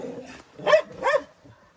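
Dogs barking outdoors on a cold day, two short yapping barks in quick succession at moderate distance, with faint movement around them and no talking.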